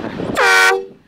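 A loud air horn blasts once as an April Fools prank, a single sustained honk lasting about a third of a second over faint background noise.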